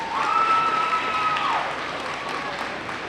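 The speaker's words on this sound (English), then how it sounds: "Let's give him another round of applause." An audience at a school DARE ceremony applauds loudly at first, then the clapping fades over a few seconds while a thin, steady electronic whine rings over it early on.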